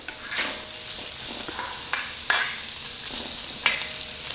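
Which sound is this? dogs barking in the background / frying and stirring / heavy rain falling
frying and stirring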